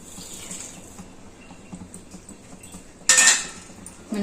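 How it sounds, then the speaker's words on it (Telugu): Tempering for dal in a pan with urad dal and cumin: quiet metallic clinks of a spoon against the pan, then a sudden loud sputtering sizzle as the seeds hit hot oil, fading after a moment. "పప్పుకు పోపు వేసేస్తున్నానండి."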